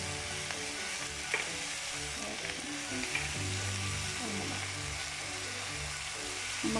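Chicken filling for chicken bread being stirred and mixed with spices in a pan, a continuous loud sizzle and fry with scraping stir strokes throughout, nearby and without talk.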